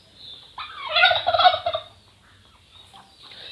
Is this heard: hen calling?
yes